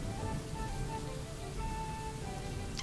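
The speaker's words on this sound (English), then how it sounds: "It started raining." Rain in the video game Dwarf Fortress makes a steady, even hiss of falling drops that carries on without a break, with faint tonal game sounds drifting over it and no talk.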